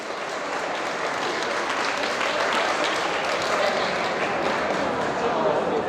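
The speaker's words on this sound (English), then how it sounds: "Can we give her a round of applause?" Steady, enthusiastic applause from a crowd fills the whole stretch, with dense clapping that never lets up.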